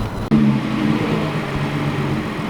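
An Audi B8 S4 engine revs loudly, close by, in a residential neighborhood. The rev bursts in suddenly, then settles into a steady, strong drone for the rest of the clip.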